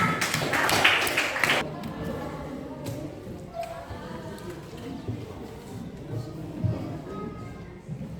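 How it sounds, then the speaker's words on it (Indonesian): A classroom group claps hands in a short, dense burst of many hands at the start. The clapping fades into a quiet room with scattered taps and faint voices. "Ya, tepuk tangan dulu."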